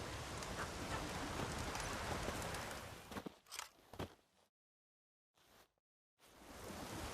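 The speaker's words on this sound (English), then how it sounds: "There's no point standing here in the rain." Rain falls steadily in The Witcher 3, a broad hiss that stays loud for about three seconds, then breaks up and cuts out with brief gaps before returning.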